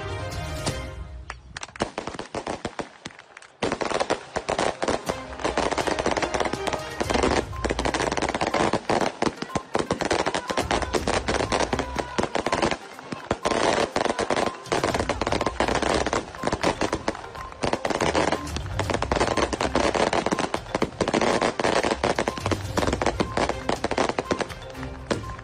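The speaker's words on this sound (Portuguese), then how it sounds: "Raiane Nazaré Cardoso da Silveira foi enterrada sob fogos no cemitério Parque Nicherói, em São Gonçalo." Fireworks set off at a burial in the Parque Niterói cemetery in São Gonçalo, a dense, continuous run of rapid cracks and pops close by, with a brief lull early on and then sustained loud bursts throughout.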